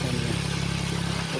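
Small farm tractor engine running at a steady idle, a close, loud low chugging drone with constant rumble and rattle for the whole short stretch, no voices.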